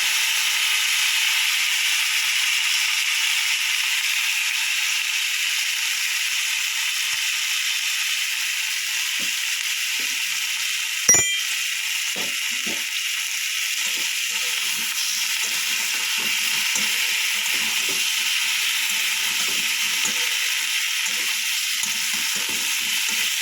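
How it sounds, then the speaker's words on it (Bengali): Potatoes and cauliflower fry with whole garam masala, cardamom, bay leaf and cinnamon in a wok, giving a steady loud sizzle throughout, broken by one sharp clank midway and a few soft stirring scrapes afterward. "গরম মশলা দিয়েছি, গোটা গরম মশলা, এলাচ, তেজপাতা, দারচিনি দিয়ে আমি আলু আর কপিটা দিয়ে দেবো।"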